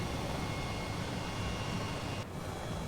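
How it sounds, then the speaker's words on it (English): A helicopter in Microsoft Flight Simulator, flying fast over Tokyo, gives a steady broadband rotor and engine roar throughout, with a slight drop in level near the end. "This helicopter is quite fast"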